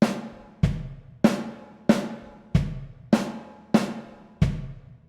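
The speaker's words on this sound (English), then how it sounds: "kick up the block with 2 bass drums." Drum fill of repeated hits combining kicks from two bass drums, eight evenly spaced punchy strikes each ringing out before the next, played alone at moderate loudness.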